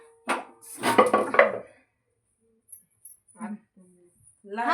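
Kitchen utensils being put away at home: a few brief clatters and clinks of pots and dishes, mostly under close conversation, followed by quieter handling sounds.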